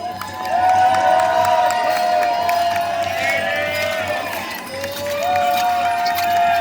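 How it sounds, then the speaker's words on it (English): Spectators at a joust cheer for the knight Sir William Dudley of the red and gold, a loud swell of shouting and whooping with a couple of sustained voices rising above the crowd. "raise now then here a goodly cheer for he of the red and gold, Sir William Dudley"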